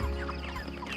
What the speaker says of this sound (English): I think I really like this group of chickens now.